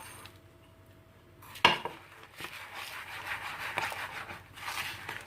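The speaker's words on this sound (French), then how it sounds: "Donc là, vous mélangez bien de manière à ce que le lait en poudre s'hydrate." A spoon scrapes and clinks against a bowl while fromage blanc is stirred with powdered milk and sugar, opening with one sharp knock and continuing as soft, uneven mixing sounds at close range.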